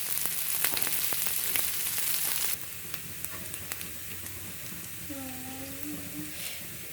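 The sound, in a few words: dried ribbonfish and onion frying in oil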